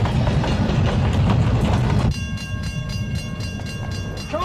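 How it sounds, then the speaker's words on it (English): A train rumbles loudly nearby with heavy low-end roar and rail clatter, a sharp drop in level midway leaving a steadier rolling hum with faint tonal squeal, no voices. "There's a train coming."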